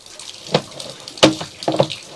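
Water from a sewer line draining through the pipe, heard as intermittent splashes and gurgling bursts over a steady low trickle, fairly close.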